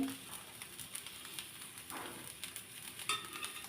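Broken rice (khud) mixed with turmeric and salt is stirred in hot oil, a steady close sizzle with scraping spatula strokes and small clinks running through, one brighter knock near the end.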